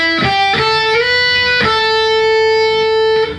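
An electric guitar plays a riff, a few picked notes with slides ringing out and sustaining clearly, loud and alone.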